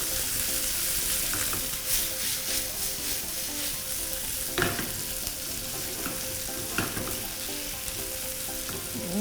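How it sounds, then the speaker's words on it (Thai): Bird's eye chilies and garlic stir-frying in a pan for a spicy stir-fried instant noodle dish with bacon, a steady close sizzle with occasional scraping stirs of the spatula, no voices. "พริก ขี้หนู ความเผ็ด อันนี้ตามชอบเหมือนกัน ผัดให้หอมนะคะ"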